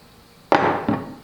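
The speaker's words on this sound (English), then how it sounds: "they'll want a hammer to hammer in the nails" A hammer strikes a nail in a woodworking setting, two sharp impacts about a third of a second apart, the first louder with a ringing decay, heard close up with no talk.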